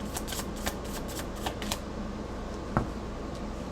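Tarot cards riffle and slide in a quick run of papery shuffling bursts, fairly close and quiet, followed by a single soft tap, with no voices.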